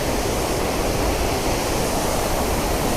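A river flows in a constant, loud broadband rush, steady throughout with no breaks and no voices, heard close to the water at a fishing spot.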